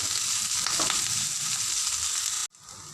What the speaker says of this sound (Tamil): நல்லா கிளறிடுவோம் நல்லா வதங்கட்டும்